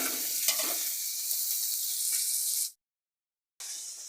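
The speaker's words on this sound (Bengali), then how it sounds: "মাছটা ভাজা হোক" Tangra fish frying in a pan of oil, a steady close sizzle with a few stirring scrapes, cutting to near silence for about a second before the hiss returns.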